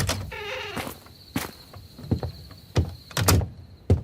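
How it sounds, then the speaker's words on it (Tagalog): A door is opened in a dramatised Filipino horror story, with several sharp knocks and thuds of the latch and door scattered across the clip, alongside a steady high whine. "Tara ho, bubuksan na namin ang pinto."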